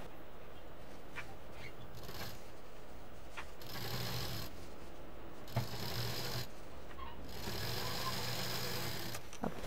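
A sewing machine stitches the lining of a patchwork shoulder bag, its steady buzzing run continuing for about ten seconds with only brief pauses between stretches of stitching.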